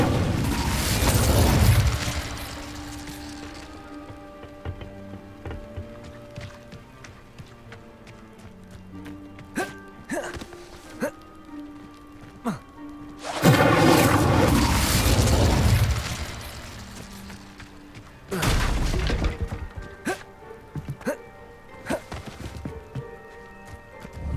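Incendio fire spell cast in Hogwarts Legacy, loud whooshing blasts at three separate moments, set against softer game sounds, light clatter and background music.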